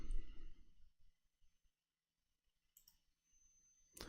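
Soft computer mouse clicks sound close and faint in a quiet room, with a short burst at the start and a few sparse clicks spread through the near-silence.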